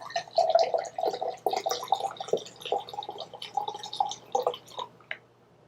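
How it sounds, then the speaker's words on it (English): Nikolai vodka glugs and splashes from a bottle into a glass for a screwdriver, a close, uneven run of gurgling pours lasting several seconds before tapering off. "Let's pour a little extra for Ozzy."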